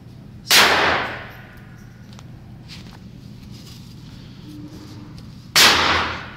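Two sharp gunshots from a Walther PPQ 9mm pistol with a 5-inch barrel at a shooting range, about five seconds apart, each loud and close with a quick decaying tail over quiet outdoor background.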